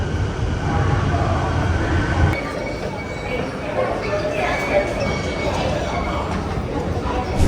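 Steady rumble of a metro train moving through an interchange station at Chongqing North Railway Station, China, with rail noise and faint clinks, and people talking over the din.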